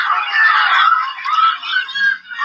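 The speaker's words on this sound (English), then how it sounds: "I hear a bunch of yelling." A crowd of people yelling and shouting together, a loud, continuous, high-pitched clamour of voices that rises and falls without clear words.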